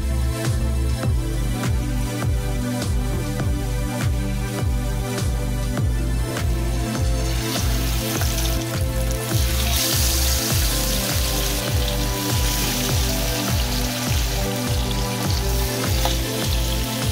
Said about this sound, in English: Pan fry over medium heat until lightly golden